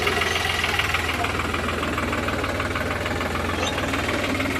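A tractor engine chugs steadily while ploughing and sowing a paddy field behind a plough, a continuous low rhythmic diesel throb with mechanical rattle, close and unbroken, no voices.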